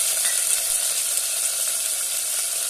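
Tomato and chillies sautéing in a pan for rasam, a steady close frying sizzle and hiss, even and continuous without pauses.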